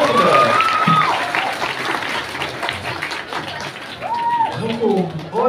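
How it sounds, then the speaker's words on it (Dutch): Crowd applause at a fan-day Q&A show at Duinrell amusement park, a moderately loud clapping wash heard under lively voices, whoops and chatter from the audience and hosts. "Een applaus en direct op de volgende"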